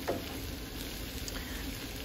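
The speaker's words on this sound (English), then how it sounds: "Okay, we're starting to get a real good sizzle here." Instant noodles, browned from their sauce packets, frying in a pan, giving a steady, soft sizzle and crackle close by with no talk.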